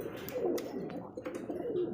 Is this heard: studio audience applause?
no